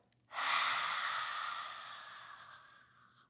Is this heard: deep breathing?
yes